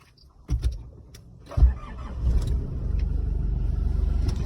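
A couple of clunks, then a Nissan Navara pickup engine cranks and catches, settling into a low, steady idle rumble.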